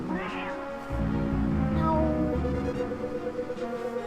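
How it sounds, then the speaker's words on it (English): A cat meows in the Batman and Robin video game: a drawn-out, wavering meow rises and falls over the game's steady background music, with no one speaking. "Oh, a little kitty."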